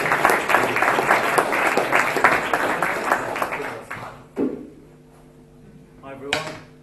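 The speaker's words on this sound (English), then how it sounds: "Round of applause for Jonathan" Audience giving a round of applause to welcome the first speaker on stage, dense clapping for about four seconds that quickly dies away, followed by a few isolated knocks and brief vocal sounds.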